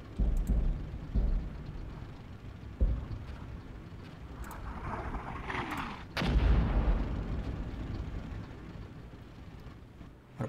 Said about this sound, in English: And it looks like I'm actually firing for effect here.